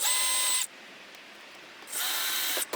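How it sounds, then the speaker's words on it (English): A power drill whines loudly for about half a second, pauses briefly, then drills again in a second burst, pre-drilling screw holes to mount a bass boat switch panel. "I'm going to pre-drill the holes."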